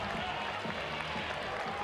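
A baseball stadium crowd at an Army versus Georgia game, a dense, distant roar of cheering and scattered applause that holds steady throughout.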